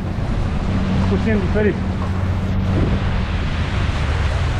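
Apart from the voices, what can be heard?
strong wind on a speedboat ride in the Maldives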